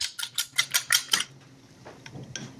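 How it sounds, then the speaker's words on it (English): Eggs being whisked into ricotta filling for a kale and butternut squash crostata, a run of about seven quick rhythmic metal-on-bowl taps and swishes, close and fairly loud, followed by quieter kitchen clatter. "Whisk them up a little bit"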